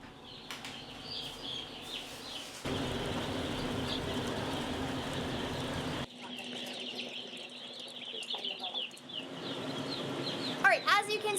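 Hens and roosters cluck and chirp inside a warm chicken barn on a farm, a steady chorus of fowl with rustling and occasional wing flaps, some bird calls rising near the end.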